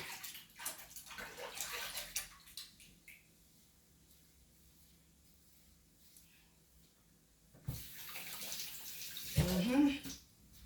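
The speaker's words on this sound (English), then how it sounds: "Let me wash my hand." Water runs from a kitchen tap while hands are washed, a splashy, moderately close rush that starts and stops in two stretches with a quiet gap between, and a voice speaks briefly near the end.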